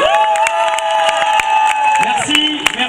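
Audience at a youth slam performance in a large hall applauds and cheers steadily, a dense crowd wash with sustained tones and scattered sharp claps running throughout.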